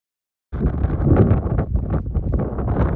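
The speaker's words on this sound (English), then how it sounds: "it's so windy and I'm getting really cold" Strong wind buffets the microphone on an exposed hilltop at Colt Hill in Dumfries and Galloway, a loud, gusty, fluttering roar that starts abruptly and keeps going with no speech.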